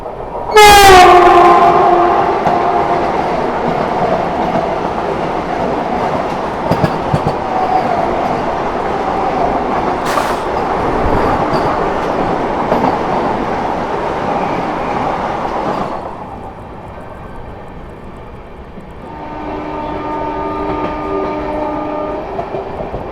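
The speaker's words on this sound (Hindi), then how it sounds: "यहाँ पर सामने से आती हुई new Delhi Varanasi junction Vande Bharat express" The New Delhi–Varanasi Vande Bharat Express approaches, opening with a loud horn blast, then a sustained rumble of the passing train that drops away, followed by fainter tonal horn or whistle notes near the end.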